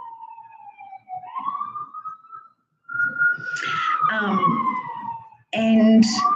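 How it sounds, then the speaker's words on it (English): Emergency vehicle sirens pass outside a residence, a wailing tone sweeping up and down through the clip, loud and fairly near, with a speaker's voice coming in over it toward the end. "Excuse the sirens."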